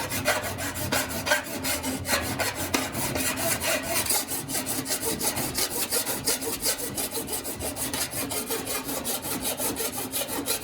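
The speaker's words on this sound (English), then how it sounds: "here's like I'll keep filing on it for a little bit" A hand body file scrapes repeatedly across a dented sheet-metal car panel. Steady, close back-and-forth rasping strokes continue throughout with no talk.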